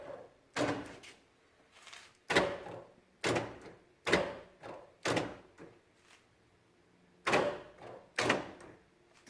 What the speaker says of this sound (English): Okay, so the door lock works, except this one.